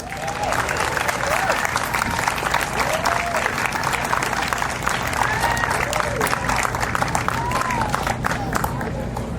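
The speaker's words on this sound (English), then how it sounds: "Let's give them a round of applause" Veterans Night crowd applauding performers invited onstage, sustained dense clapping for nearly ten seconds with cheers and scattered voices mixed in.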